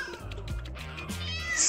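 A cat in the LEGO City Undercover video game gives a couple of short, clear meows, close and alone, with the last cry rising sharply at the end.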